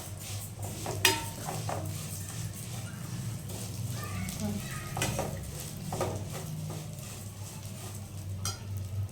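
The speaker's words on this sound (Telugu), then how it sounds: "ఇది కొంచెం బ్రౌన్ కలర్ వచ్చేంత వరకు వేయించుకుందాం. గోల్డెన్ కలర్ వచ్చే వరకు ఫ్రై చేసుకుందాం." Vermicelli (semiya) is stir-fried in a pan, a ladle scraping and knocking against the metal in irregular clinks over a soft sizzle, with a person talking throughout.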